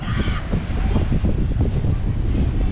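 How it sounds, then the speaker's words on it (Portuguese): Strong, violent wind on Lake Geneva at Thonon-les-Bains roars and buffets the microphone with a heavy low rumble, loud and continuous, while a brief honk-like call sounds at the start. "o vento hoje está bem violento"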